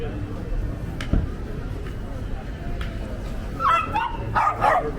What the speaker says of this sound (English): Very talkative dogs out here.